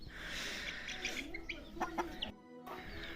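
Several chickens cluck and chatter nearby in a busy farmyard while feeding, short calls overlapping, with a brief quiet gap near the end.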